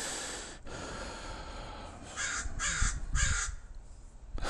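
A crow caws several times in quick succession, loud and fairly close, amid outdoor background noise with some breathy snorts.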